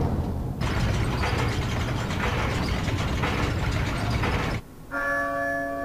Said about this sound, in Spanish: Las campanas suenan